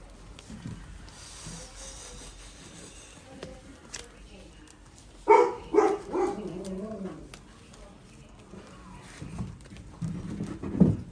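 A large dog barks in several short bursts partway through, with background chatter from a card game and ambient noise around it.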